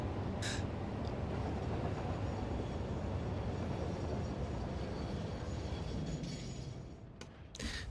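Train running in the factory-building game Satisfactory, heard from on board as a dense, steady rumble with faint rattles and a couple of brief sharp metallic ticks, easing off slightly toward the end.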